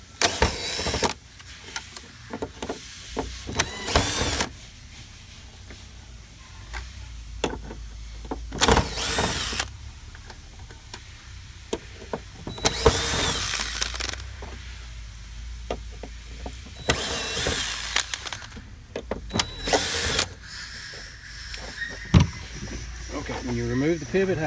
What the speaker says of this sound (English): remove the 6 screws